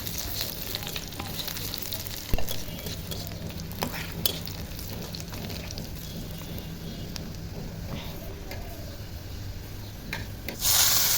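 Chopped onion hitting hot oil alongside dried red chillies in a home kitchen pan, a steady sizzle with occasional stirring scrapes and clicks, a brief louder clatter near the end.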